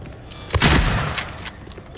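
Shotgun blasts in Silent Hill 2 Remake on PS5: one heavy, booming shot stands out loud and close, with a few fainter, shorter bangs around it.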